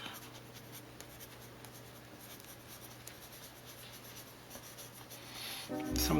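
An aquarelle pencil scratching across paper, used dry without water, a soft continuous scribbling rasp that stays close and faint throughout, ending with a brief louder rustle.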